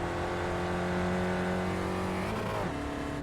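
A Spec Racer Ford race car in the iRacing simulator at Oran Park holds a loud, steady engine drone, then its pitch drops sharply as it shifts or lifts off, with no talking.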